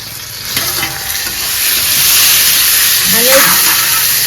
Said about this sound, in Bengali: এই যে পেঁয়াজ ভাজা হয়ে গেছে, এখন টমেটো দিয়ে দেবো